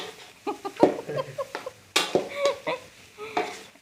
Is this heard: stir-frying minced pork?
yes